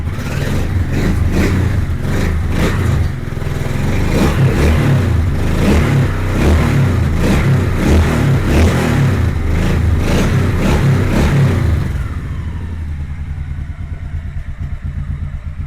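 A Honda Shadow Sabre 1100 motorcycle engine, started on full choke, runs loudly and roughly, rising and falling in revs with rattling clatter, then drops to a quieter, lower tone near the end.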